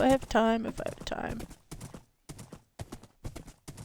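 Horse hooves clip-clop in a Minecraft survival game, a series of sharp, evenly spaced thuds following a short whinny, heard clearly and up close with no talk over them.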